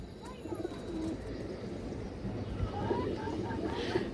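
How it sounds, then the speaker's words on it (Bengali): A pigeon coos softly a few times against a steady outdoor background hum. "এই যে কবুতরটা দেখেন মাশাল্লাহ অনেক সুন্দর একটা কবুতর"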